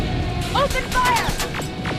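Gunfire in the video game Terminator: Resistance: a short burst of sharp, loud shots and crashes, tangled with whining, tonal game effects.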